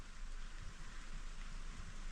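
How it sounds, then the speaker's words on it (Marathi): Rain falling at night, a faint, steady hiss of drops on surfaces with no voices over it. "ही बघा, मध्ये किती पाऊस कसं आहे?"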